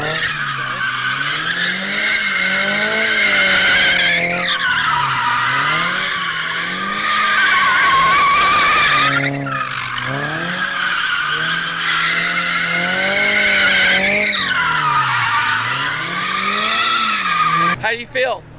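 A car drifting on a track produces long, loud tire squeals that rise and fall in sweeping arcs over a revving engine, breaking briefly between passes.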